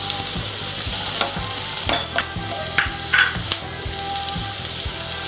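Carrots being stir-fried in a pan for egg fried rice, with a steady sizzle and repeated scraping and clacking stirs, close and fairly loud, no talking.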